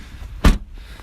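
The boot of a used 2019 Citroen C3 Aircross 1.2 PureTech Flair being shut, one sharp close thud in the middle of a quiet moment.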